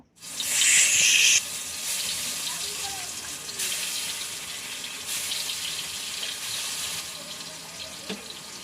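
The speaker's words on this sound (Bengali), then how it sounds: "বেগুনটাই যে এখন ধুয়ে নেব" Tap water gushes hard for a moment, then runs in a steady, moderate stream while an eggplant is washed under it, with small splashes and a voice faintly in the background.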